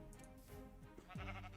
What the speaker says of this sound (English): there's so many sheep!